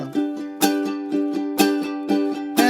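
Rapid, steady ukulele strumming in sixteenth notes, with louder accented strums landing about once a second over a quick, even pattern.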